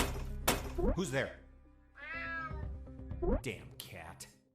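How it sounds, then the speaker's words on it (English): A cartoonish cat in the stealth game UnMetal meows several times in close, clear bursts, with a drawn-out, wavering yowl in the middle, over steady game background music. "Damn cat."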